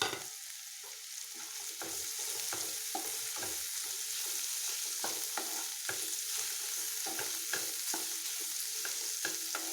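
Fried okra stirred into onion gravy in a pan gives a dense, continuous sizzle broken by frequent sharp scrapes and clicks of the spoon, close by and with no voice.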